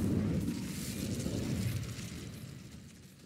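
A fire spell, Incendio, is cast in Hogwarts Legacy, giving a single close, dense burst of whooshing flame that roars loudly at the start and slowly fades over about three seconds, with no voices.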